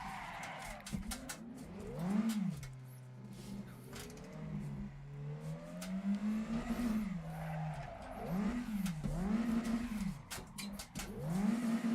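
A car drifting in a racing video game, with engine revving rising and falling and tire squeal sweeping through the slides, fairly close and continuous without any talk.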